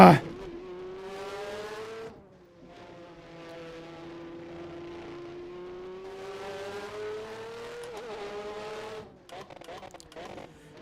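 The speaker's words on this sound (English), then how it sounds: "drowned out by engine noise to the point where even thinking is a little hard" A simulated 1988 Formula 1 car in rFactor 2 revs loudly and close by, its engine whining up through the gears with a shift dip around mid-run, ending in rough, stuttering throttle blips.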